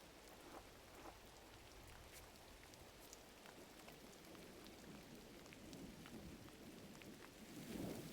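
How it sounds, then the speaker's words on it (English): Steady rain hiss in the video game Gris, a soft, even wash of falling water with a slight swell near the end, no voices. "It seems to be raining."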